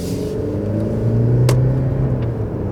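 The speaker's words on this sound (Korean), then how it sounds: "주행 소음은 이제 같이 한번 느껴보도록 하겠습니다." Cabin noise of a 2025 Mercedes-Benz E300 AMG Line (W214) on the move, a steady low engine and road rumble with a smooth rising whir as it accelerates, heard alone.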